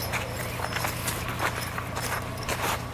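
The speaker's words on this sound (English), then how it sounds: "Little team of horses." Draft horses' hooves clip-clopping at a steady walking pace on a hard surface, with a low background hum and no talking.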